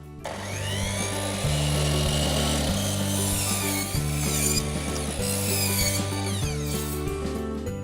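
Tongue and groove wood boards being cut into 5-inch ends for a rustic cornice, a loud continuous whining power saw with a steady mechanical drone and slight pitch shifts as it bites through the wood, close up.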